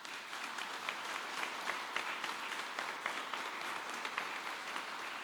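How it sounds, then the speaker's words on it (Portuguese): A church congregation at a prayer group meeting claps in sustained, dense applause, many hands together at a steady moderate loudness without a break, heard from within the room. "Eu queria que você aplaudisse o Senhor por isso."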